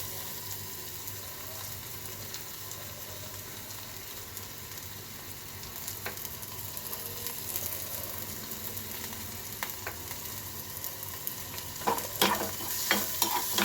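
Finely chopped onion is stir-fried in a pan for a potato bhaji: a soft, steady sizzle with scraping stirs that grow busier and louder toward the end.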